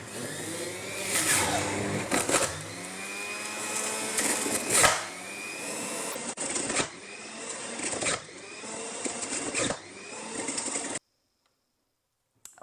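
Electric juicer running on apples, a loud continuous whirring motor with grinding bursts as fruit is pushed through, close up, cutting off near the end.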